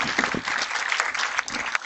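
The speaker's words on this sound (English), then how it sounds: "How about a round of applause for these two ladies?" Spectators at a girls' 18s national tennis final applaud the two finalists, a brief burst of scattered clapping from a modest outdoor crowd.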